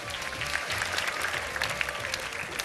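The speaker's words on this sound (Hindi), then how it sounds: "तालियां बजा दें, मैं आपकी तरफ आ रहा हूँ।" Studio audience applause on a Ramadan iftar television show, a dense steady patter of many hands clapping at moderate level throughout, with faint music underneath.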